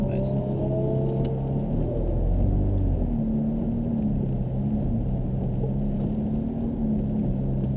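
A Ferrari F430 engine accelerates during a track driving experience, a loud, steady, close-up drone whose tone climbs gradually under the rumble of the road, lasting several seconds.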